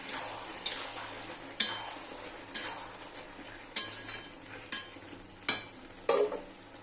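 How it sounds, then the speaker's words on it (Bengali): Prawns and bottle gourd frying in a pan for a Bengali-style lau chingri, with a steady low sizzle under regular spatula scrapes and clinks against the pan, about seven strokes spread evenly through the stir. "আবার একটু নেড়ে দেব।"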